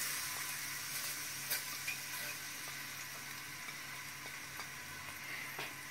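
Onions frying in oil for an aloo baingan dish give a steady, fairly faint sizzle with scattered small crackles and pops throughout, with no talking.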